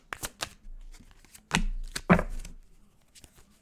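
Oracle cards being shuffled by hand, a few quick riffles and soft slaps of the deck in short uneven bursts, close and fairly quiet.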